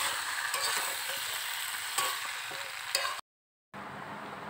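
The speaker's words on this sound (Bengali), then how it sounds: "এবার ভালো করে নাড়াচাড়া দিয়ে আর জল দিয়ে হালকা করে জল দেবো" Stirring spiced curry with green chillies in a frying pan gives a steady close sizzle with scraping stir strokes and a brief cut to silence near the end.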